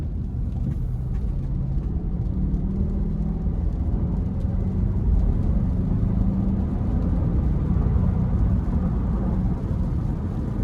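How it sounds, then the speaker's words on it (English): A 2018 Nissan Armada Platinum's 5.6-litre Endurance V8 pulls the big SUV up to speed, its steady low engine drone and road rumble heard from inside the cabin, continuous and fairly loud with no talk. "with this Endurance V8, again, plenty of power, and the acceleration shows pushing this giant hoss up to speed relatively quickly"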